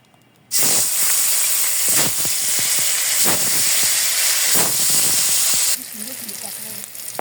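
Sliced onions drop into hot oil to fry crisp for a traditional koi fish curry, setting off a sudden loud, hissing sizzle that stays strong and close for several seconds before easing off.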